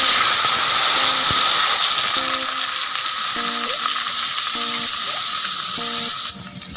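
Water poured into a hot pan of frying fish skin curry with green chillies erupts into a loud, dense hiss and sizzle that gradually eases, with faint rhythmic clinks in the background.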